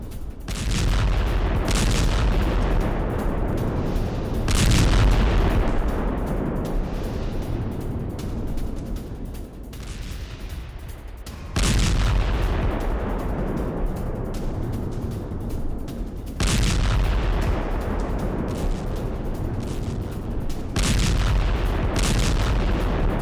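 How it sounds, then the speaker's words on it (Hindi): Non-stop bombardment strikes on a Hamas command and control center in news footage. Heavy booms land every few seconds, each followed by a long rumbling roar that fades before the next blast. "नॉन स्टॉप बम्बार्डमेंट करके हमास का पूरा कमांड एंड कंट्रोल सेंटर था यहां पर"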